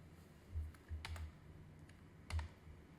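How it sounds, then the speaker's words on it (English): Close keyboard typing on a computer while entering a chatbot message: a few quick, soft key taps in small irregular clusters over a low steady room hum. "now type in a message"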